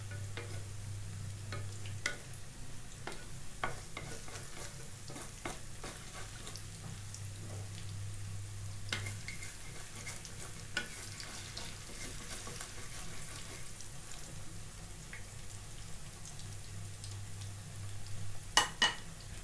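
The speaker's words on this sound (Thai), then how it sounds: "เราจะทอดตรงนี้ก่อนเนาะ" Papaya for vegetarian som tam frying in a pan, a continuous close sizzle with frequent stirring clicks and scrapes, steady throughout with no voices.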